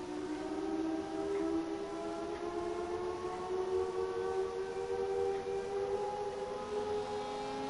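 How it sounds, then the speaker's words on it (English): Military sirens and alarms in the video game The Last of Us wail as sustained, slowly rising tones over a dense background drone, with a faint repeating high-pitched beeping pulse throughout. "The military still has technology. There's sirens and alarms"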